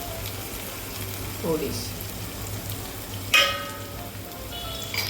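Spices sizzle and sauté in a pan for dahi kadhi with turmeric and coriander, a soft constant frying hiss broken by a few stirring scrapes and clinks, while someone briefly speaks over it.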